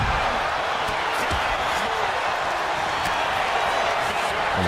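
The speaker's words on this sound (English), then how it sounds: "The crowd is drowning them out." A roaring arena crowd in the wrestling game WWE 2K26, a dense, constant wash of cheering and noise at steady loudness with faint thumps underneath.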